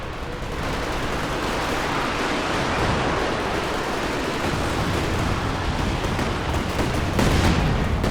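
Soviet ZiS artillery barrage in the strategy game Company of Heroes 2: a dense, continuous rumble of overlapping blasts that swells near the end, loud and unbroken.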